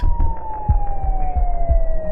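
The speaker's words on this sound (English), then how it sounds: "the distant sound of police sirens" A police siren wails in one long steady tone that slowly drifts lower in pitch, over a rhythmic low rumble.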